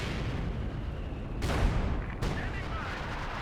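A mortar barrage in Company of Heroes 2, with two sharp, distant shell blasts over a rumbling battlefield and a commentator's voice talking throughout.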